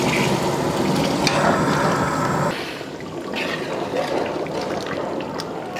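Water rushes steadily into a cooking pot at close range, then the pouring eases to a softer, continuous splashing trickle.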